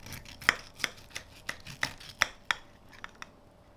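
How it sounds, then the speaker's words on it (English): A knife slicing through the thick end piece of crispy cooked salmon: about nine sharp, crackly crunches at an uneven pace, close up and fairly quiet, with no talking. "let's cut up this salmon and check it out"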